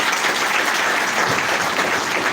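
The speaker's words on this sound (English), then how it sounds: "Let's give God Executive Madam Nakawara a very big round of applause." Sustained audience applause at a Saturday recognition event for AIM Global in Zambia, a thick, even roar of many hands clapping that stays loud and steady throughout.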